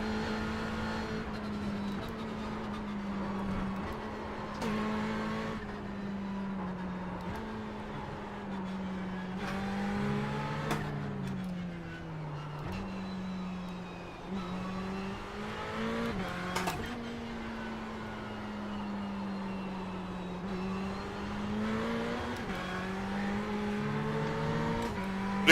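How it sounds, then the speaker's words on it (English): Ferrari 488 GTB V8 driven hard on the Silverstone track, heard from the cockpit as a steady, loud engine drone whose pitch climbs and drops through gear changes for the whole stretch. "it's so nice to have the sound of a V8 behind you"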